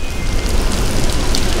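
Heavy rain falls steadily outdoors in a dense, continuous hiss and patter, close and loud, with no voices heard.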